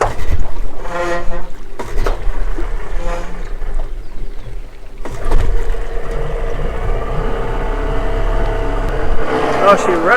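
A boat engine on a sailing boat in Indonesia idling, a steady low rumble running throughout, loud and close, with voices speaking over it at times.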